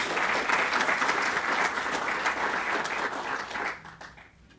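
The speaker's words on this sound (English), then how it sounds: "A round of applause for the sponsors." Audience at a smart cities institute launch event applauds the sponsors, a sustained, loud burst of clapping from a crowd that tapers off near the end.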